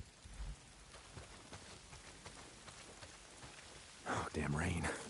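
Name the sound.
rain and thunder in the video game Days Gone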